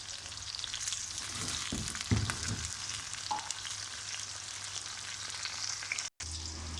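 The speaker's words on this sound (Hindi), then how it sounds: "अब तेल गर्म हो चुका है, अब इसको हमने उसमें डालना है।" Vegetables such as eggplant and onion frying in hot oil in a kadai, giving a steady close sizzle throughout with a few stirring scrapes and bumps.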